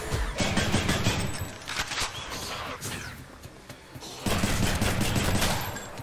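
Rapid bursts of gunfire from the action video game Hades, dense volleys in two loud stretches with a quieter gap between, fairly close and continuous.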